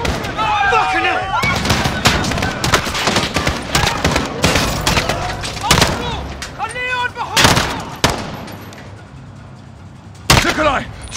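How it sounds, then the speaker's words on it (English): Rapid bursts of gunfire crack and rattle repeatedly in Call of Duty: Modern Warfare, mixed with shouting voices and chaotic combat sounds. "The gunshots, of course."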